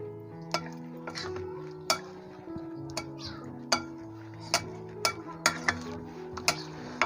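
A spoon stirs oil into an instant potato pickle (aloo ka achar) mixture, giving a series of sharp, irregular clinks against the bowl over a steady low background tone.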